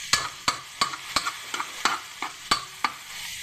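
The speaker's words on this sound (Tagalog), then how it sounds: "isasalang ko na yung corn beef pare" Corned beef frying in a pan, with repeated sharp scraping taps of a utensil stirring at a quick, fairly regular pace over a light background sizzle.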